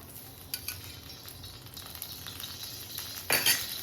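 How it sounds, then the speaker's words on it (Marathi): Ground masala paste made with yogurt fries in a little oil for a gravy, a soft steady sizzle with occasional clinks of a spoon against the pan and a louder burst near the end. "चला आपण थोडंसं तेल टाकूया वाटण भाजायला"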